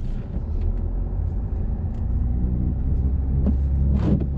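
A car pulling away in first gear during a driving lesson, a steady low engine rumble from inside the cabin, even and moderately loud with a couple of faint clicks and no talk.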